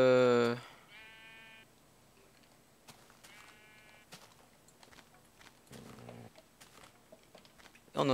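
Sheep bleat in a survival video game: a few short wavering bleats, each heard close and clear, spaced apart over a quiet background with occasional faint clicks.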